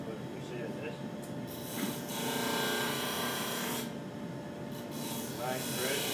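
A disk sander grinds against the outside curve of a wooden piece, a steady abrasive rasp over motor hum with shifting pressure, while a voice talks over the work.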